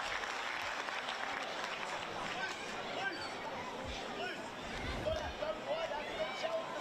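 Scattered applause from a stadium crowd at a women's football match between Newcastle Jets and Melbourne City after the goalkeeper makes a double save, a steady, distant wash of clapping and crowd noise under a commentator's voice.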